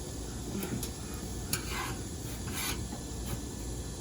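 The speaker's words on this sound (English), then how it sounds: "I just used my screwdriver to slide that over a little bit" A pizza stone is scraped across the floor of a London Sunshine pizza oven with a screwdriver, giving soft gritty rubbing and a few brief scrapes over a constant low hiss of the oven flame.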